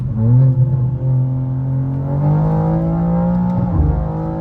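A 750hp BMW M2 accelerating hard nearby, a loud, steady engine drone that climbs in pitch through the gears, with a brief shift dip near the end and no voices.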